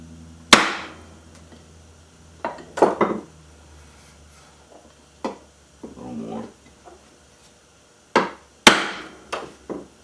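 Sharp, separate knocks of a wooden block striking metal to flatten part of an antique car horn, sometimes single and sometimes in quick pairs, with quiet gaps between them and a faint hum underneath.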